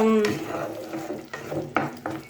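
Spice masala with yogurt being stir-fried in a pan, heard as a soft sizzle broken by a few scraping spatula strokes near the mic, with no talking.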